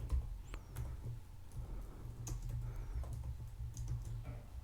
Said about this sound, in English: We will make a commit and we will type added the hello.js file